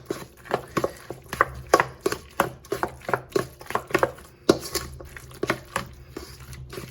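Potato salad with mustard being mixed in a bowl, giving a run of soft, wet squishing and tapping strokes in a steady rhythm, close and moderately loud, with no talking.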